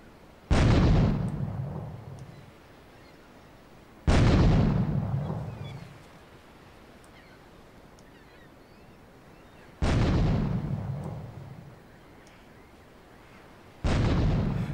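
Four heavy grenade explosions in the video game GTA 3, each a loud, sudden boom with a rumbling tail, spaced a few seconds apart with no talking.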